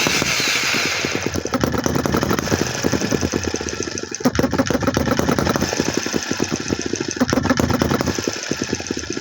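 A hit and miss model engine with a governor runs steadily, loud and close, its rapid rhythmic firing beats packed tightly together with brief dips in between and no talking.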